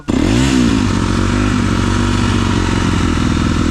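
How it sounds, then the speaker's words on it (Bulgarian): A motorcycle engine runs loud and close throughout, with a brief rising rev near the start settling into a steady idle rumble, no talk over it. "Аз този мотор сега как ще го изкарам,"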